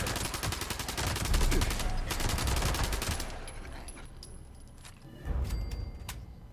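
A Thompson submachine gun fires in Fallout 76 as a long, loud, rapid stream of close shots for about three seconds, then falls to quieter scattered sounds before a shorter burst near the end.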